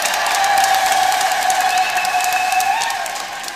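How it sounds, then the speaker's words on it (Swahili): A church audience bursts into loud, sustained applause mixed with high ululating cries, a dense crowd roar that stays strong and fades slightly at the end. "makofi na vigelegele kwake"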